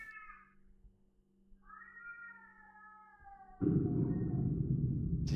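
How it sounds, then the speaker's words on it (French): A stray cat meows loudly in drawn-out wails, two long cries close by in a quiet room, followed by a burst of rustling or scraping noise. "Un chat errant, il miaule vraiment fort."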